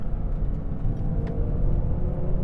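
Ferrari 812 Competizione V12 running on a cold track, a steady loud engine drone with heavy low rumble holding constant throughout, heard from close by inside the car.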